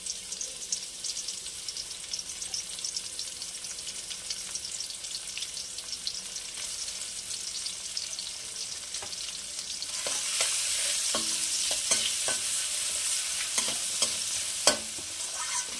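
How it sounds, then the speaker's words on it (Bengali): Chopped onion frying in a pan, a continuous close sizzle that grows louder midway, with scattered spoon scrapes and taps as it is stirred, and no voices. "পেঁয়াজটা একটু ভাজা ভাজা করবো।"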